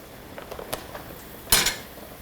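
A spoon stirs heavy cream in a pan for steak Diane, producing faint scraping and a few light metallic taps, then a louder clattering clink of utensil on pan, close and without speech.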